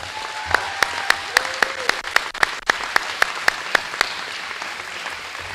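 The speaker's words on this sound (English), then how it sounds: "I think he needs a big round of applause." At a school all-sports banquet, a few people clap in a thin, uneven patter, with separate sharp claps landing one after another and a voice faintly under them.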